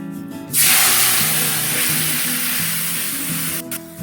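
Spiced paste poured into hot oil in a pan for traditional Bengali tel koi fish curry, bursting into a loud, steady sizzle after a brief quiet start, hissing on continuously and easing slightly toward the end.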